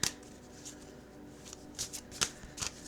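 Oversized tarot cards riffle and slap together in a quiet, close shuffle, with a few sharper flicks near the end and no talking.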